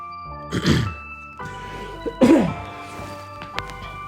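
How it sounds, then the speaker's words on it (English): A single person coughs twice, close and fairly loud, with a short throat-clearing burst between them and a faint background hum throughout. "I gotta check that cough out"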